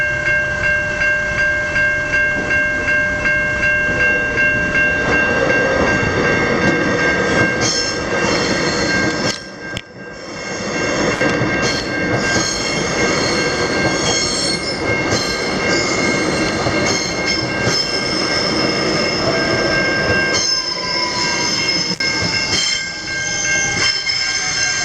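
Train passing a level crossing in Mooroolbark, Victoria, during crossing removal works: a loud, sustained rumble of wheels and carriages lasting the whole stretch, with high steady tones, squeals and clattering rail joints, and no talk.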